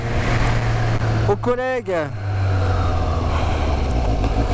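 A Suzuki GSX S 750 motorcycle being ridden, its engine drone steady and close under wind noise, with someone speaking briefly over it.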